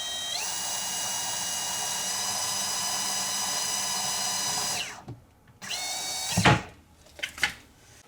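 A power drill bores holes for a pull-out organizer rail, a loud steady high whine that runs for about five seconds, then stops, followed by brief bursts and handling clatter.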